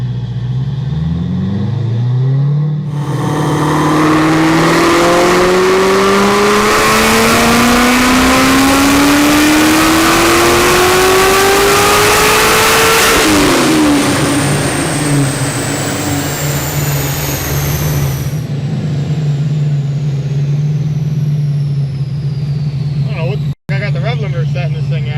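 A 1000-horsepower Stage 5 supercharged Corvette C6 Z06 engine roars up through a long, rising rev, holds near the limiter, then drops back to a rumbling idle, loud and close, with people talking nearby.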